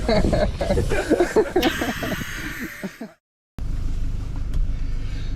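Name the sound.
air hissing from punctured Toyota Hilux tire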